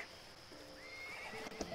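A horse neighs in the Roblox game Horse World, a rising whinny with a faint clip-clop of hooves, fairly quiet and alone.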